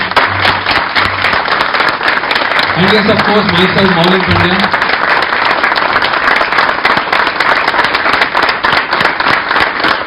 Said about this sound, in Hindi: जबरदस्त तालियां दे दे, एक बार जोरदार तालियां दे दे